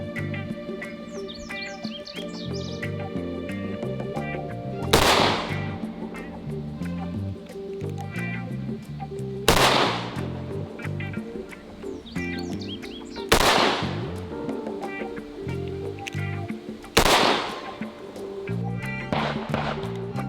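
Revolver fired at a shooting range, five loud, sharp shots spaced several seconds apart over background music, with no talk heard between them.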